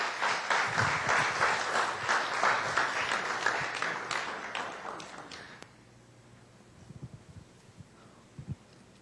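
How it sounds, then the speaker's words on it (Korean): Church congregation applauding, a dense run of claps that is fairly loud for about five and a half seconds and then stops abruptly, leaving a quiet room with a few faint taps. "박수 한번 보내드립니다"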